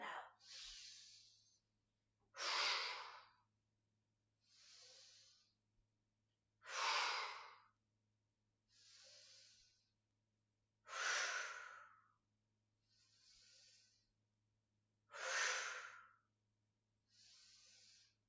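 Slow, deep yoga breaths during a standing stretch, alternating long breathy inhales and fuller exhales in a steady rhythm, close and clear over a faint low hum, with no speech.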